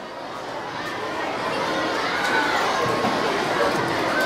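Several classes of schoolchildren fill a hall with loud, dense chatter and occasional shouts, a steady crowd roar that builds slightly and holds.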